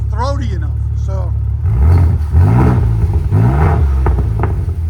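A Ford Raptor EcoBoost V6 with modified exhaust revs nearby, rising and falling in several throaty surges with a deep rumble, following a short stretch of talk.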